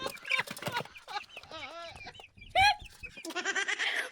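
Household hens that had been eating from a plate cluck and squawk close by in varied, choppy bursts, with one sharp loud call partway through, fairly clear and prominent.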